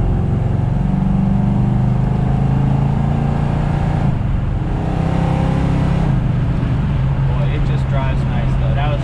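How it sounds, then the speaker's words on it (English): A 1970 Plymouth 'Cuda 340 muscle car drives at about 65 mph on three-quarter throttle, its V8 giving a steady loud low drone with a rising pull throughout, heard from inside the car. "That was up to about 65, 3/4 throttle, not really stomping on it."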